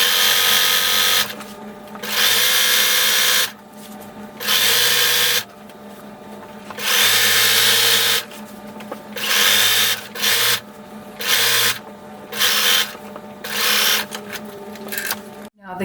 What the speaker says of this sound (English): as you're sewing, you need to back stitch when you start, and when you end you need to back stitch